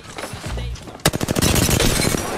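Apex Legends firefight: after a short lull, rapid automatic gunfire erupts in a loud, close, sustained burst of quick repeated shots, with a player talking alongside.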